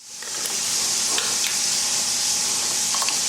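Pork chops sizzle steadily in a hot pan for honey mustard chops, a dense even crackling hiss with small pops scattered throughout, close and fairly loud.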